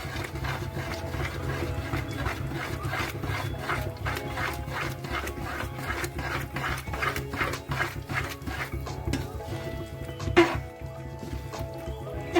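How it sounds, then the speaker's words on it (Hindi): Roasted ground flaxseed being stirred into a pinni mixture in a pan: steady soft scraping and rubbing with repeated strokes throughout, close and moderately loud, no speech. "अब हम इसको इसमें मिक्स करेंगे और हल्के हाथों से इसे भी चलाते जाएंगे।"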